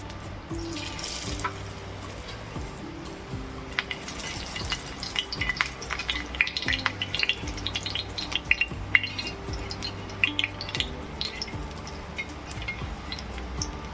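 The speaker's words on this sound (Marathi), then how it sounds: "मी शॅलो फ्राय करणार आहे आपलं आता तेल तापलेलं आहे" Alu vadi slices shallow fry in hot oil, a steady close crackle and sizzle with scattered sharp pops running throughout and no voices.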